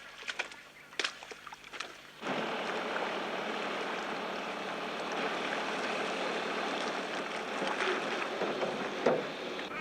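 Steady broadband rush of flowing water at Cooper's Creek in the Australian outback, starting after a few quiet seconds with light clicks and continuing evenly and fairly close.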